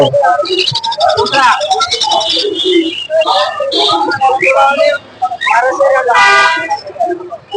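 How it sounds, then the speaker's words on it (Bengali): Lovebirds at a bird market chirp and whistle in quick, shrill bursts close by, heard beneath steady conversation. "আপনি অবশ্যই শুনতে পাচ্ছেন এই পাখিগুলি"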